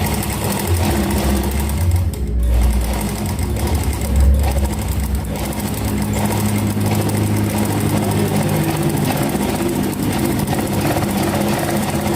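A sewing machine runs steadily for a dozen seconds while stitching the front neck of a garment, a loud continuous close whirring hum with slight dips near the start.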